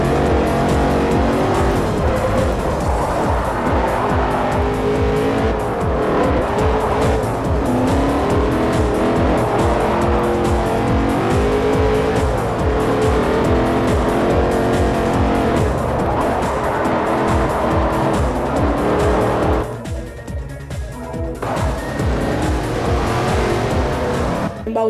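An Audi Q7 TDI races on a track in Forza Motorsport 4, its engine roaring steadily with tires squealing through corners, loud and continuous with a brief dip near the end.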